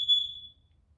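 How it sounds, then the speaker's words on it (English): A single short, high electronic low-battery chirp from a home smoke alarm, sounding alone and fading quickly into quiet. "I guess my smoke alarm, the battery's getting low."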